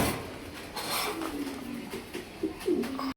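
Racer pigeons coo at a pigeon farm. Faint early calls build into several clearer, throaty coos close by near the end, with no talking.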